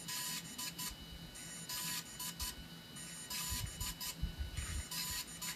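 The DJI GO app on a phone gives a series of repeated electronic beeps in quick groups of several, crisp and clear over a steady background hum.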